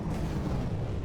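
Heavy battleship cannon fire from the From the Depths naval combat game, a dense, continuous low rumble of overlapping booms and blasts with no clear gaps, loud and sustained.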